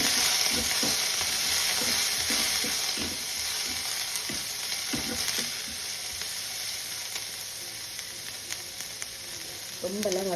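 Onions sautéed with green chilies and curry leaves for an egg rice dish sizzle steadily in a pan, with intermittent scraping and stirring clinks close by, the frying loud at first and easing slightly.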